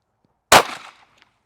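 A single sharp gunshot from a Glock pistol on a shooting range, one loud close crack with a brief ringing tail that fades within half a second, otherwise quiet.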